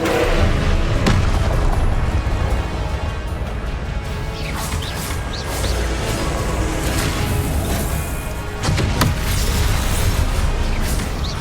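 Repeated booming blasts of the Confringo blasting spell in the video game Hogwarts Legacy, loud and close, with sharp crashing impacts and whooshes over a continuous roar of combat noise, no speech.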